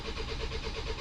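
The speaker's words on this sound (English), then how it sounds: "try and start it now" A Hyundai ix35 engine turns over and runs in a steady, close rumble with a repeating pulse through the full second, loud and alone with no voices.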